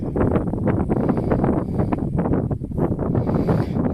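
Strong wind buffets a microphone outdoors during metal detecting, producing loud, irregular low rumbling gusts and thumps that pulse continuously with no other clear sound.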